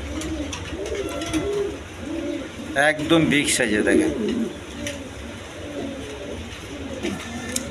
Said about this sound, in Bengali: এখানে এক পেয়ার রেসার কবুতর আছে